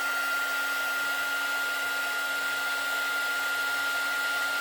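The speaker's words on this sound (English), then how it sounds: "When I turn this heat gun on and I try to heat this up" Heat gun blowing steadily at close range, a loud continuous hiss with a constant whine layered on top, unchanging throughout with no voices.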